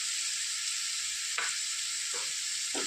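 Chopped onion, carrot, green chilli and ginger sautéing in a pan for semiya upma, giving a steady close sizzle throughout, with a couple of brief spatula scrapes toward the end.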